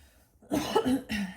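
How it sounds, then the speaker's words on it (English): A single close throat clearing, two short rough bursts with a brief break between them, after a moment of near silence. "I feel like I got to clear my throat."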